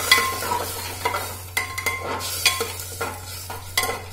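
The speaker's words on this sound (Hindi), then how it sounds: "पानी डाल के इसको हम हिलाएंगे।" Food in a pan stirred with a utensil after water goes in, heard as repeated scraping strokes and clinks over a soft sizzle, close and irregular, with no voices.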